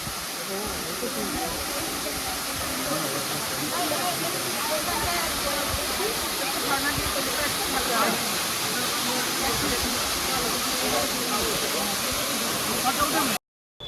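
Deojhar waterfall near Cuttack roars as a steady, dense rush of falling water, loud and unbroken throughout.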